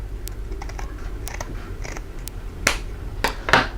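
Scissors snip through bag pattern material in a series of sharp, close clicks and crisp cuts, spaced irregularly, with the last few snips louder.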